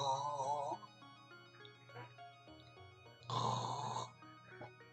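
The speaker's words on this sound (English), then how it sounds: "Swallows and continues to snore." A man sleeping outdoors on the Big Rock in Hawaii snores in two long, rasping breaths separated by a quieter stretch with faint shuffling, close and fairly loud.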